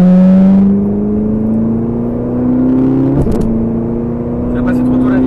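A Ferrari F458 engine accelerates with a loud, steadily rising tone from close by, and voices talk briefly over it.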